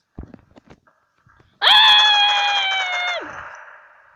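A person lets out a loud, sustained scream lasting over a second, preceded by a few faint clicks and rustles, heard close and alone while playing the mobile shooter game Modern Strike Online.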